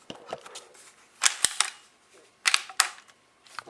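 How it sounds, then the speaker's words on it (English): A Daisy Powerline 990 air rifle is cocked in a few sharp mechanical clicks and clacks, close and crisp, separated by short quiet pauses. "you cock it"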